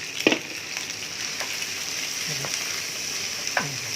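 Beef hitting hot oil with garlic and chili for Thai basil beef, a steady loud sizzle throughout with a few sharp spatula scrapes and clatters against the pan, no talking.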